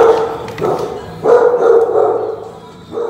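Dogs bark repeatedly in an animal shelter kennel, loud echoing woofs arriving in uneven bursts with short gaps, close and reverberant, with no talking.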